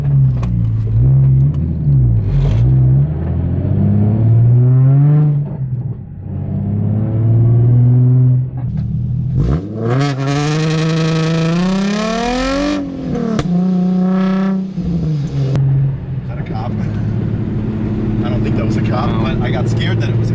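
Nissan 350Z driven through town streets with some drifting, engine droning loud and close, revving up and down in sweeping rises with gear changes, while people talk inside the car.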